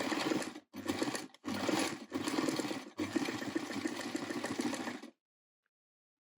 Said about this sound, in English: Now just remove your pins out of the line that we're sewing as you get to them.